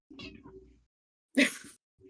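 A cat meows twice at close range in a quiet indoor room: a short first call, then a louder, brighter meow after a pause, with no talking.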